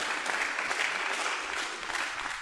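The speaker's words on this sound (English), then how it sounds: "let us once again give a loud applause to our guest speaker" An audience at a conference gives a guest speaker sustained applause, a steady wash of many hands clapping at even loudness throughout.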